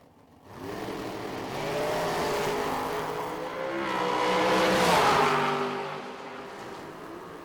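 Drag race cars launch down a racetrack at a summer drag racing event, a roaring engine note rising in pitch through the gears, swelling louder as they pass and fading slightly at the end.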